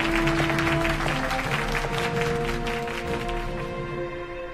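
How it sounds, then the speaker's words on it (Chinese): Applause for award winners at a formal awards ceremony: steady, dense clapping from a crowd that holds for several seconds, with music running underneath. "让我们再一次掌声恭喜获奖者"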